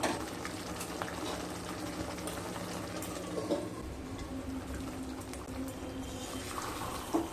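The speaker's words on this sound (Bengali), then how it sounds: "ভালোভাবে মিশিয়ে নিয়ে ঢাকা দিয়ে 5 থেকে 7 মিনিট লো স্টিমে রান্না করে নেব।" Katla fish curry simmering gently in a covered pan on low heat, a soft continuous bubbling and hiss with occasional small pops, quiet and steady with no talk.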